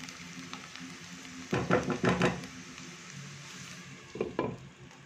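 Onions fry in a pan with a steady low sizzle, broken by a few sharp scraping and knocking bursts as a spoon stirs against the pan, fairly quiet and with no voices.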